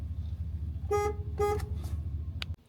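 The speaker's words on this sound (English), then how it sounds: "you just drive to the door and honk your horn and then drive in" A car horn sounds two short honks at the door of an oil change shop, each clear and near, over a steady low idling engine rumble, followed by a brief click as the sound cuts off.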